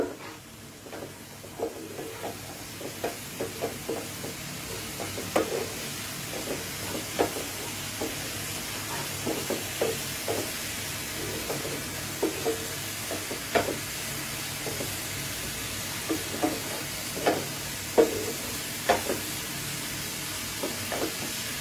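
Spice paste sizzles softly in a pan while being stirred, a continuous low hiss broken by regular scraping and tapping strokes from the spoon, moderately close with no voices.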